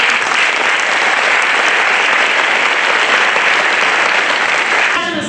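A crowd at a percussion concert applauds loudly and continuously, dense clapping that holds steady before tapering off at the end.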